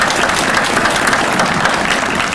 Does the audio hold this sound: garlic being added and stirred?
no